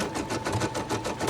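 Brother SE425 embroidery and sewing machine stitching with a steady rapid needle rhythm, moderately loud and close, while a person speaks over it.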